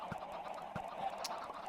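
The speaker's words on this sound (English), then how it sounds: "735 chickens in there now" Minecraft chickens packed by the hundreds into a chicken XP farm, a steady mass of overlapping clucks and bird chatter with occasional louder calls standing out.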